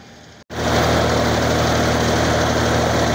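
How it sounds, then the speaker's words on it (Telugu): A tractor engine drives a water pump, starting after a brief lull and then running as a loud, steady, low mechanical drone. "ట్రాక్టర్ల సహాయంతో వాటర్ అనేది పంపింగ్ చేయడం జరుగుతుంది."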